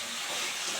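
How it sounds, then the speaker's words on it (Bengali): A brief, close gush of water pours from a rinsed blender jar into a pan of thin fish curry, a steady bright splashing rush with no talking. "এবার মিক্সি ধোয়া জলটা দিয়ে দেবো।"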